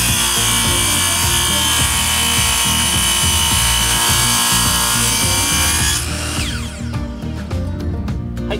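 A circular saw cuts flooring boards for a shipping-container house conversion with a loud, continuous, close whine and grinding for about six seconds, then the motor winds down, leaving rattling and ticking.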